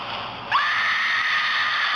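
A loud, sustained high-pitched scream that starts abruptly about half a second in and holds steady to the end, heard during play of a Roblox horror game.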